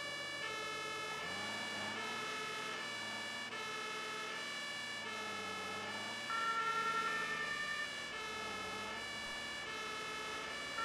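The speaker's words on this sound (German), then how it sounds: "Da machen wir mit 3 das Blaulicht an und mit 2 den Martinshorn." A fire engine siren from the firefighting simulation game Notruf 112 wails in a steady, repeating rising-and-falling cycle, loud and continuous with a faint engine hum beneath.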